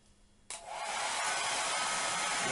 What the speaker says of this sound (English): We're going to turn on the hair dryer.